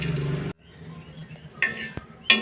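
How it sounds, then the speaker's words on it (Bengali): A few quick bursts of black peppercorns rattling and clicking onto a hot, dry metal griddle, separated by brief quiet. "তাওয়াটা গরম হয়ে গেল ওখানে আমি এখানে গোলমরিচগুলোকে দিয়ে দিলাম"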